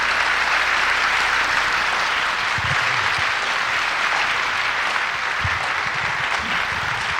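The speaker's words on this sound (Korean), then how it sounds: "우리 목사님 올라오실 때 박수로 우리 크게 환영합시다" A church congregation at a revival meeting in an LA church claps steadily to welcome the pastor, dense sustained applause filling the hall without a break.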